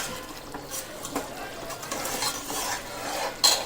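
Continuous scraping and stirring of a curry in a pot over a soft simmering sizzle, with occasional light clinks of a spoon against metal.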